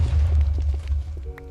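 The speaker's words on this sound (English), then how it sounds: "each one ignites the next one by being just an explosion radius" Deep booming rumbles roll together as chained TNT blocks detonate one after another in a video game, loud and low with overlapping thuds and no talking.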